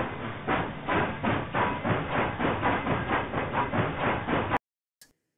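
A train chugs rhythmically close by, a loud pulsing hiss and clatter repeating several times a second until it cuts off abruptly near the end.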